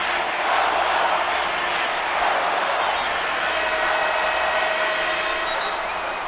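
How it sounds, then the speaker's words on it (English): A dense, steady roar from a basketball arena crowd cheering at an international game between Mexico and Puerto Rico, sustained and loud throughout with no break. "Listen to that cheer."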